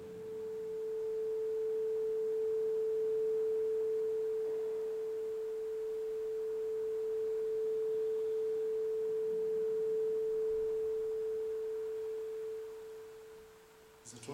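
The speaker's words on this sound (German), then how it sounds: "Es gibt ein einziges Beispiel in der Natur für einen Ton, der keine Obertöne hat. Das ist die Stimmgabel." A struck tuning fork rings a pure, steady tone without overtones, sustained evenly at moderate loudness for over twelve seconds before fading, with a faint hiss of room noise beneath it.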